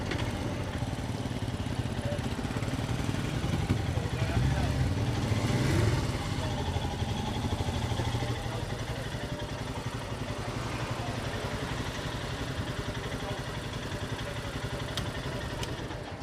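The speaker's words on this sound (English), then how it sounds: "Right, so here's the Himalayan, the bike I've been waiting to try." A Himalayan motorcycle runs at a dealer open day: a steady low engine rumble with a mechanical clatter, set against a noisy crowded background.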